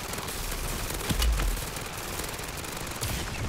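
An automatic pistol fires in MW3 Zombies, giving rapid, continuous machine-gun-like fire in a steady dense stream, with a heavier thump near the middle, loud and unbroken throughout.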